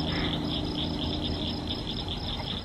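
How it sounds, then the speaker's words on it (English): A grasshopper chirps in fast, even pulses in the countryside near a pond. The buzzing is steady and close over a dense night-insect backdrop, with a low murmuring layer underneath. "I hear a grasshopper chirping over here. And then I hear it's the frogs down at our pond."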